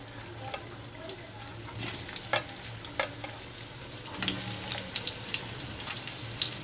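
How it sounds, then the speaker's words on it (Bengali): Potatoes for a meat curry fry in a pan with a soft continuous sizzle, while a spoon stirs and clinks against the metal at irregular moments; no one speaks. "আমি মাংসের আলুগুলো ভেজে নিই, আগে ভেজে নিয়ে তারপরে আমি তরকারিটা বসাবো"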